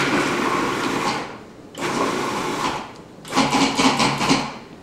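Food processor pulsing potato and onion for latkes: three loud whirring bursts with brief pauses between, the last one choppier and rattling, up close in a home kitchen.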